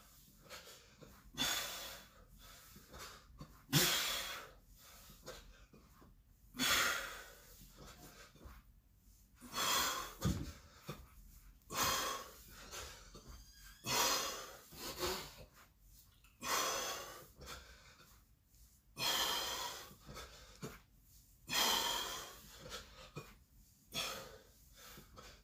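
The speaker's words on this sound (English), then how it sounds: "So I'm breathing out on the exhale" Heavy, rhythmic breathing during a home fitness test workout, with sharp exhales and gasps repeating roughly every couple of seconds, close and loud, with no talking.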